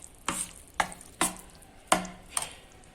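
Fermented dhokla batter mixed with turmeric is stirred in a bowl, with five sharp spoon knocks and scrapes at uneven intervals, close and clear, and no talk.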